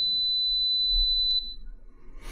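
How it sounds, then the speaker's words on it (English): A security system's panic alarm sounds a steady high-pitched electronic tone continuously, then cuts off abruptly, leaving a quiet hum and a brief rustle. "So if somebody was to press a panic alarm"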